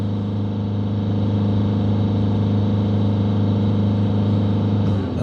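A Mercedes C-Class diesel with a blocked DPF and a dead exhaust temperature sensor idles nearby, giving a steady, even low rumble with a constant mechanical hum and no revving throughout.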